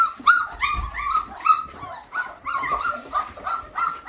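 Young puppies that have just started leaving their whelping box whimper and yip in high, repeated cries close by. The calls are broken into short bursts, with small bumps and movement sounds between them.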